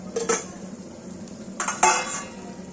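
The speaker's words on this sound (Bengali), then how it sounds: "ঠিক ঢাকাটা খুলে একবার দেখে দেবো" A metal lid clinks and scrapes as it lifts off a pan of mustard and poppy-seed hilsa simmering on a low flame, with two short clattering bursts and a faint bubbling hiss beneath.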